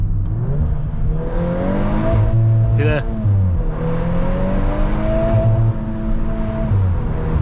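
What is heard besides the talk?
VW Mk8 Golf R engine bouncing off rev limiter in drift mode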